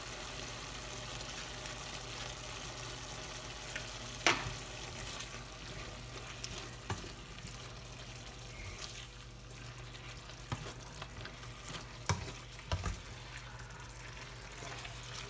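Steak and vegetables sautéing in a pan after a splash of water and a little tomato paste, a low steady sizzle with occasional soft clinks and stirring knocks throughout.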